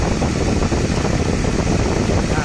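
The air conditioning compressor of a Mercedes-Benz S280, just repaired after a leaking refrigerant line, runs with a loud, steady mechanical whir and engine hum, continuous and close with no pauses.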